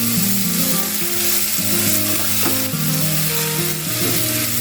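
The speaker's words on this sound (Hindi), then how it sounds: "उसमें ऐड करने के बाद मिक्स करूँगी मैं 2-4 मिनट इसको अच्छी तरह से फ्राई करना है।" Cubes of raw green mango frying in a pan for a sweet-and-sour chutney, giving a steady, loud sizzle with occasional stirring scrapes throughout.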